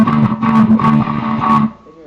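Electric guitar playing the rhythm part of a song, a few bars of chords with steady strummed rhythm, fairly loud and close, ringing alone before fading out.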